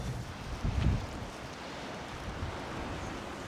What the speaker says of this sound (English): It is rather windy.